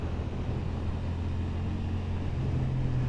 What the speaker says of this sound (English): I think that sounds really good for a parallel twin